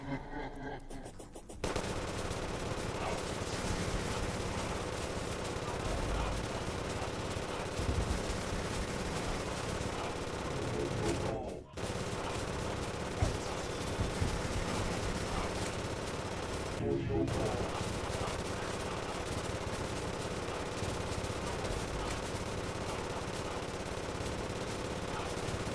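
Rapid pistol fire with Glorified Bullets in Terraria during a boss fight, a dense, steady stream of quick shots running almost nonstop, with brief pauses and game sounds layered underneath.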